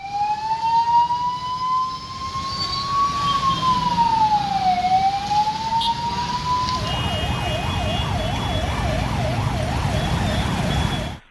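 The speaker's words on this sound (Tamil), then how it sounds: "ஆம்புலன்ஸ் வாகனமும் நெரிசலில் சிக்கியது" An ambulance siren wails close by in heavy traffic after rain, starting as slow rising and falling sweeps and then switching to a fast, rapid warble that continues loudly to the end.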